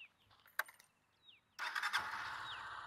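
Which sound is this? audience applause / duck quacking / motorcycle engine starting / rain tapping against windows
motorcycle engine starting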